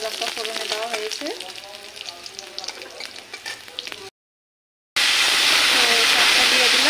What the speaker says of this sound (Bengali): এখানে কালো জিরা রসুন আর শুকনো লঙ্কা ফোড়নে দেওয়া হয়েছে